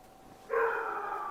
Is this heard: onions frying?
no